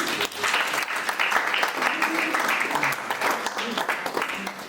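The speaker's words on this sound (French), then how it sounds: "Est-ce qu'on peut acclamer le frère?" A crowd at a wedding blessing in Meaux breaks into warm, sustained applause, many hands clapping close and dense throughout, with voices mixed into the clapping.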